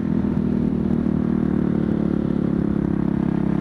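The engine of a 2013 Husqvarna TE511 motorcycle runs at a steady idle, a loud, close, even drone with a rapid pulsing beat and no voices over it.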